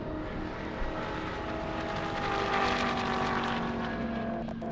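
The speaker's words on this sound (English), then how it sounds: "Looks like the Ferrari F8 might have went around that Corvette." A Ferrari F8 and a Corvette race down an airstrip, their engines a sustained loud roar with rising harmonic whine that swells toward the middle and stays fairly steady throughout.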